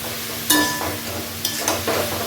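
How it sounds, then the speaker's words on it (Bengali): Cauliflower frying in a pan of oil, a steady sizzle punctuated by several sharp bursts as pieces are stirred or turned, close and clear with no talk. "এই যে ফুলকপিটা ভাজা হচ্ছে"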